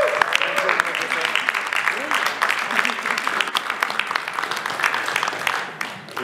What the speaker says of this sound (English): So start by giving yourselves a round of applause.